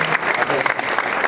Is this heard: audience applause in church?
yes